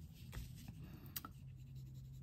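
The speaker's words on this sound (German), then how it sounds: "Dann nehme ich mir zum Beispiel einen" Soft scratchy strokes of a thin pencil drawn lightly across paper card, a few brief rasping passes close up and quiet with no talk.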